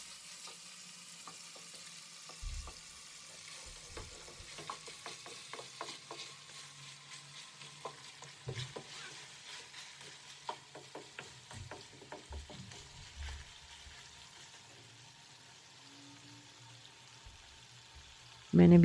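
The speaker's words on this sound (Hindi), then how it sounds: "5 मिनट हम इसे अच्छी तरह से भून लेते हैं।" Mutton karahi, Shinwari style, frying and being stirred in a pan, a steady sizzle with repeated scraping clicks of a utensil, fairly close, continuing without talk until a louder knock at the very end.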